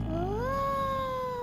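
A cat in a video game lets out one drawn-out, rising then steady meow, loud and close, with no talk over it.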